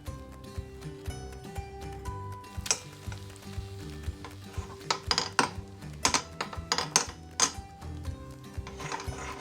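After a flip, an egg fries in a pan with a light sizzle, and a kitchen chopstick and utensils clink and scrape against the pan in quick, uneven bursts, close by and without talk.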